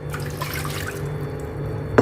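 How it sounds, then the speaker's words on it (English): Water pours steadily into a cooking pot for chicken congee, a short continuous splashing stream up close, with no voices. "So let's start by adding 2 cups of water."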